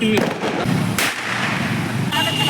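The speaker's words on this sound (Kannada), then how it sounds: "ಪ್ರೀತು ಫಸ್ಟ್ ಪಟಾಕಿ ಹಚ್ತಾ ಇರೋದು ನಾನು" A couple of sharp, loud Diwali firecracker bangs nearby, each a sudden crack over a rough, noisy background.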